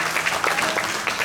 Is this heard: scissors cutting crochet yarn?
no